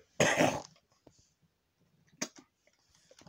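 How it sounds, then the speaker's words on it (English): A person with a sore throat gives one harsh, phlegmy cough close by, followed by quiet clicks and a brief second throat sound. "Sorry about coughing up a bit of phlegm again."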